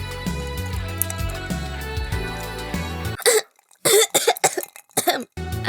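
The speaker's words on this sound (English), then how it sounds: "And you're clearing your throat?" After a stretch of music, someone clears their throat in several rough, raspy bursts, close and fairly loud, with short gaps between them.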